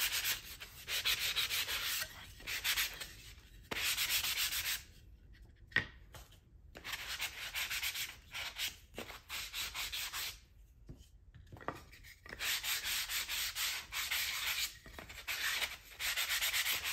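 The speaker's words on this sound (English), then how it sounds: "Give a quick sand over and we'll get to decoupaging." A wooden herringbone tray is sanded by hand in steady back-and-forth strokes, the gritty rubbing coming in bursts separated by short pauses, close and moderately loud with no talking.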